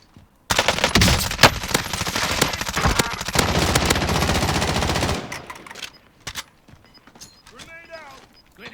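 Loud sustained automatic gunfire in Call of Duty: Modern Warfare Warzone, an intense volley of several seconds followed by scattered shots and clatter, with players talking under and after it.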